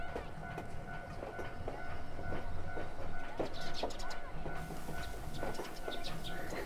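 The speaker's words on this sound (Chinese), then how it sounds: "啊，火车来了，我们在这边看一下。" A train pulling into a small station, its steady rolling rumble and rhythmic clickety-clack of wagons heard from the platform at moderate distance, with faint birds in the background and no talking.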